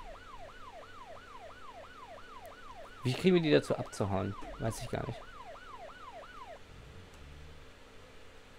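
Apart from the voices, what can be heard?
police siren on a vehicle in BeamNG Drive video game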